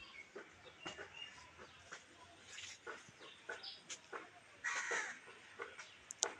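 Crows in the hills caw repeatedly in short, irregular bursts, fairly close, with a louder cluster of calls partway through over quiet outdoor ambience.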